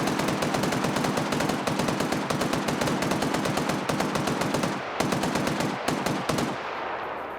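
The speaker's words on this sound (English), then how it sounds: "they're mag dumping with a 50 cal" A .50 caliber machine gun in the video game Arma fires long sustained bursts, rapid evenly spaced heavy shots that are loud and close, with brief pauses before the firing stops.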